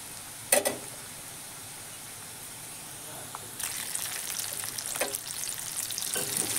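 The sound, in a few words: stirring panch phoron, cumin and coriander powder frying in pan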